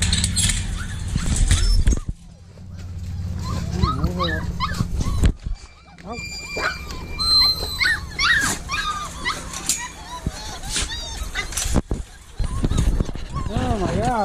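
Several six-week-old puppies whimper and yip in high, wavering cries at suppertime, with a voice talking at times and some scuffling noise.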